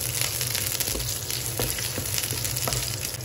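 Minced garlic sautéing in hot cooking oil for spicy chicken liver adobo, a loud dense crackling sizzle that runs steadily throughout with small pops.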